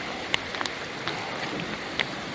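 A July hailstorm pelts a truck and a car with a dense, steady patter of ice, broken by scattered sharper ticks of bigger hailstones striking the metal. No voices.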